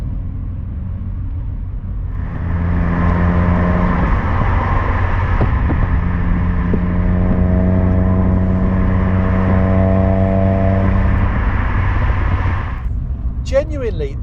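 A restored Ford Escort RS1600i with a 115 bhp engine accelerates hard, its loud engine note climbing through the revs for about ten seconds before easing off, heard from inside the car.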